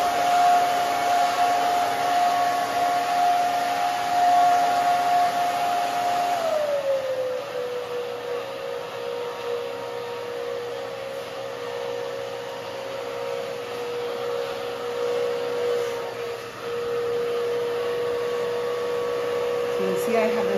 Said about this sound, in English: I kind of dry that forward, and this kind of back, and then this over.